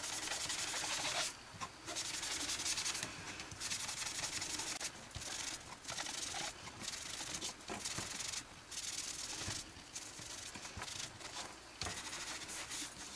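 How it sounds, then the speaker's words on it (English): A sponge dabs More Mustard ink onto Whisper White cardstock in a light coat, giving close, steady, scratchy rubbing strokes in quick bursts with short pauses between them. No one speaks. "I'm using sponges. And what you're going to do is you're just going to apply a light coat of the More Mustard all over your Whisper White."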